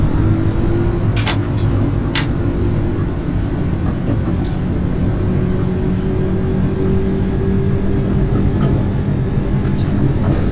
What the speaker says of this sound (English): There's a train going over the top, that's awesome.